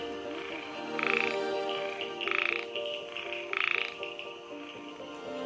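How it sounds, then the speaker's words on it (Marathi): A Malabar gliding frog croaks at night in the rainy forest of Amboli, giving three evenly spaced rasping bursts over a steady background of insects and dripping rain. "माझा पहिला लाईफवर ऍडल्ट मलबार ग्लायडिंग फ्रॉग."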